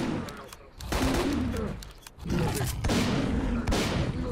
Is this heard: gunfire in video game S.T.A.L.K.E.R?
yes